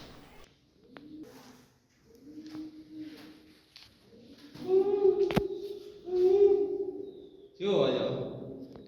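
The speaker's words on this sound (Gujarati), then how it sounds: "કબૂતર" Pigeons inside rock-cut caves at Uparkot Fort, Junagadh, give a series of soft, throaty coos in repeated phrases, growing louder and fuller toward the end, with a brief sharp click midway.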